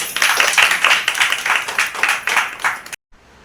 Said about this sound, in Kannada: ಎಲ್ಲರೂ ಚಪ್ಪಾಳೆ ಹೊಡಿರಿ